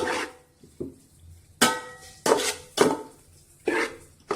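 Spoon scraping and knocking against a pot while biryani ingredients with tomato are stirred, a string of sharp metallic clanks and scrapes at irregular intervals, close and clear.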